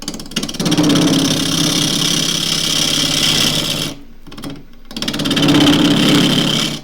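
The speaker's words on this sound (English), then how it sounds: "Now that's rattling around a bit because it's not dead flat on the other side against the chuck" A wood lathe spins a split bowl blank that rattles in the chuck because its back is not flat, giving a loud, close, steady whirring hum with a chattering undertone that dips briefly, then picks back up.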